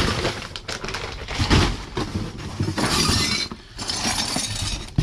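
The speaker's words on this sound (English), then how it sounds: "Bunch of broken glass." A pile of broken glass handled in a dumpster, with dense crunching, shattering clinks and scraping shards rattling up close, loud and continuous without talk.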